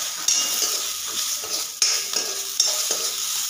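Onion fries in a pan for a dhaba-style shev bhaji, a bright continuous sizzle broken by sharp scrapes and clinks of a utensil stirring against the metal every second or so.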